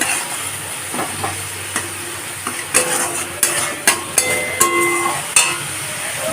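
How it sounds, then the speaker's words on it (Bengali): Tomato, garlic and ground turmeric, chilli and cumin sauté in a pan for a Bhola fish curry, a constant sizzle marked by a series of sharp spoon-against-pan scrapes and knocks that grow more frequent. "আবার এখন ভালো করে কষিয়ে নেব"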